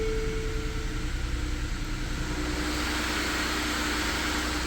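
Lincoln MKS sedan engine running at a steady idle, a low continuous hum and broadband whir with a faint tonal whine early on, alone without talk.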